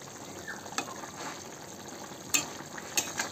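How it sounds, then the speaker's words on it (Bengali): Vegetables simmer in a pot, a quiet continuous bubbling and sputter with a few sharper clicks and pops standing out near the end. "দেখুন ফুটছে কিন্তু সবজিটা"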